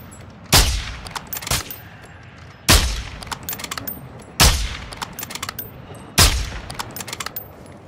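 Video game gunfire near a snipers' nest, four loud sharp shots spaced about two seconds apart, each followed by a short rattling echo tail.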